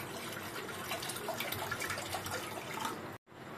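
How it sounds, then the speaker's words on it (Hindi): Water poured into a cooking pot set on a gas stove, a steady splashing, rushing stream heard close and fairly quiet, cut off by a brief gap near the end before continuing. "अब इस बर्तन में करीबन आधा लीटर पानी डाल देंगे।"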